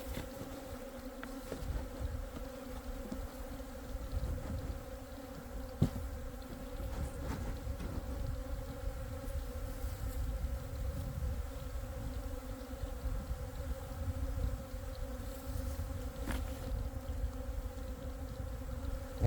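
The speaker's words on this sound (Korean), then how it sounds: "여기서 가장 많은 이동 말벌이 지금 움직이고 있죠" Hornets swarming around a honeybee hive, a continuous close buzzing drone of many insects that holds steady throughout with no voices.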